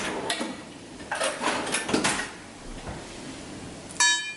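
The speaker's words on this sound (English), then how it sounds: "Now I'm going to grab a fork and just give them a stir." A metal fork stirs egg into okonomiyaki batter in a bowl, making a few soft, irregular clinks and scrapes against the dish, quiet and close, ending with a sharper clink.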